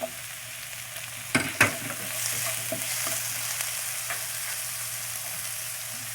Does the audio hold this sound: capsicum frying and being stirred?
yes